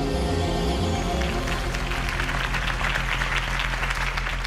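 A crowd claps and cheers in Batman: The Telltale Series, after a campaign speech for Harvey Dent, a dense, sustained applause that fills the scene at moderate volume.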